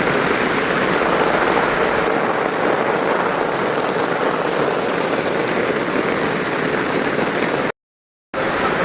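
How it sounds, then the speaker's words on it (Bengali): Heavy rain pours down on a flooded main road beside a market, a dense, steady roar of drops hitting water and pavement that fills the whole scene, loud and unbroken apart from one brief cut near the end. "আজকে 2 দিন অতরে বৃষ্টি হইতেছে"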